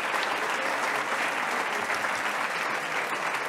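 Sustained applause from a sizable crowd at a mayor's New Year address in Port-Saint-Louis-du-Rhône, steady clapping at even volume throughout.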